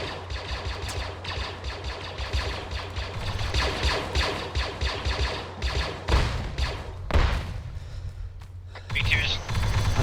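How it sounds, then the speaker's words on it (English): Grenades and rifle fire during a military live fire training exercise, a dense run of heavy thuds and bursts with a loud blast near the end and brief voices between. "Throwing grenades"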